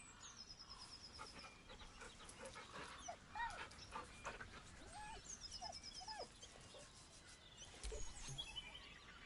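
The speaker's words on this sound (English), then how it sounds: "The dog whimpers nervously, as if to urge you on." A dog whimpers nervously in Baldur's Gate 3, a series of short, high, rising whines spread across several seconds over a steady bed of ambient game noise, with no talk.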